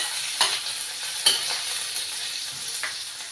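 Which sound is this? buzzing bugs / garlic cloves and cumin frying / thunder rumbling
garlic cloves and cumin frying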